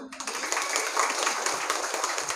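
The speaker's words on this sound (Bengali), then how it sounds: "সে যে একটা ল্যাঙ্গুয়েজ পারে তার জন্য একটা হাততালি দিবা না?" Schoolchildren clap together for a classmate at Chandina Matribhumi Model School in Cumilla, a steady, dense patter of many hands filling the whole moment fairly close and loud.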